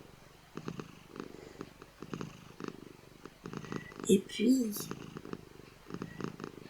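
Close, soft, rhythmic cat purring pulses steadily throughout, while a calm voice speaks briefly over it.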